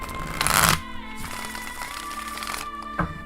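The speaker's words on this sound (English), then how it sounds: "let me just shuffle it a few times for you guys so you get a sense of how it shuffles" Laminated tarot cards riffle and flap in a quick burst, followed by softer sliding and tapping of the deck being handled up close.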